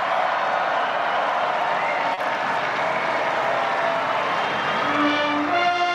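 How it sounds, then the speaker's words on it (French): A large outdoor crowd in St. Peter's Square roars and applauds as the Pope arrives on his chair for the Easter Urbi et Orbi blessing, a dense, steady wash of cheering with faint band tones creeping in near the end. "Nous entendons la clameur de la foule qui l'accueille."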